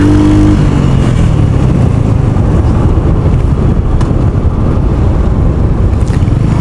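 Royal Enfield Hunter 350 motorcycle pulling through second gear: the engine note drops at the shift, then strong wind rush on the microphone largely buries it as the bike picks up speed, loud and continuous.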